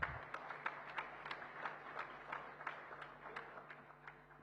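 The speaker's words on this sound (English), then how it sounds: "big round of applause, please" Audience applause at the Indo-American Chamber of Commerce National Convention, a steady run of distinct, fairly faint claps in a large room, heard at a distance and continuing evenly throughout.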